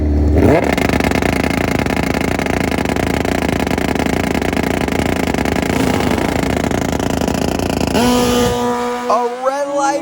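A Hayabusa drag racing motorcycle's engine drones loud and steady at the drag strip, then cuts off near the end, leaving quieter rising revs.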